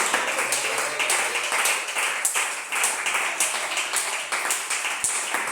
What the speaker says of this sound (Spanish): Ríndale el aplauso al Señor en esta noche.